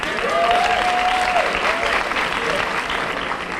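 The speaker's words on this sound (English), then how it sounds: "give them a round of applause" Audience applause fills a hall at a Women's History Month celebration in Arkansas, a steady dense wash of clapping throughout at fairly close range, with a faint voice briefly audible early on.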